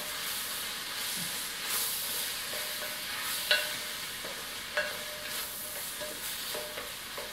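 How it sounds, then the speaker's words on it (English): Shredded cabbage stirred in a frying pan for a cabbage and opo squash dal makes a constant soft hiss with a few sharp scraping clicks from the spoon. "I'm going to be throwing in a little bit of shredded cabbage"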